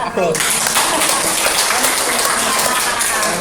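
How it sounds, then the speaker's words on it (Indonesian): Applause at a master's thesis proposal seminar, a dense continuous wash of many hands clapping at steady loudness throughout, filling the room after a brief quieter start. "Aplaus."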